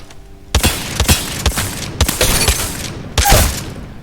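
Mozambique shotgun from Apex Legends firing in a string of loud, sharp blasts, roughly five shots spaced about half a second apart, each with a short ringing tail.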